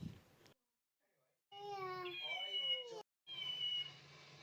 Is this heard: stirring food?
no